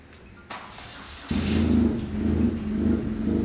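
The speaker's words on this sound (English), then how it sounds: "I'm going to start the bike up" A motorcycle engine cranks and fires up during a used-bike inspection, followed by a loud, steady idle.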